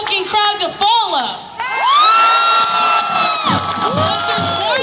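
A protest crowd cheering and whooping loudly close by, shouts and excited voices rising and falling in a sustained roar over the whole stretch.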